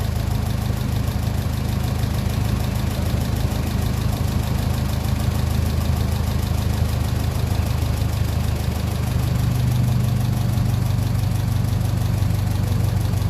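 A 1957 Ferguson 35 tractor with a TVO engine idles steadily at about 750 rpm, a continuous low, throbbing mechanical drone that stays close and loud for the whole stretch with no talk.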